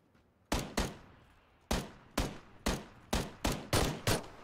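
Gunshots in the battle-royale game PUBG, fired in a town: a run of sharp, fairly quiet reports in uneven pairs and singles, about eight in all, with no voices.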